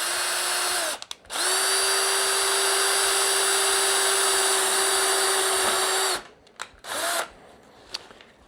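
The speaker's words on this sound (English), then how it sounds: "then I'm just gonna drill the pilot hole" A power drill whines loudly and steadily for about five seconds while drilling a pilot hole, with brief revving bursts before and after, close by.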